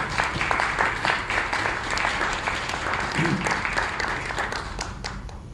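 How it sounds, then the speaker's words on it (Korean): An audience claps loudly to welcome a cancer centre director to the stage. The dense, sustained applause runs for about five seconds with faint voices underneath. "이종화 암센터장님을 큰 박수로 맞이해 주십시오"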